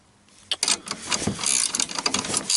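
Ratcheting spanner clicking rapidly while tightening small 10mm nuts, a dense run of close metallic ratchet clicks starting abruptly and continuing steadily to the end, with no talk.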